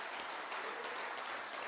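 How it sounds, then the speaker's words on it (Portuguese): A church congregation claps together during a worship celebration service, producing a steady, dense wash of applause throughout, with no other sounds standing out. "Pode aplaudir Jesus bem forte"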